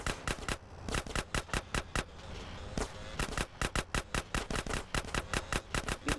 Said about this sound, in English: Roll up on him, CJ, so I can get a shot